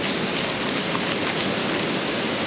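Steady rain pours down in a jungle, a dense even hiss of drops with no voices, continuous and fairly close for a few seconds.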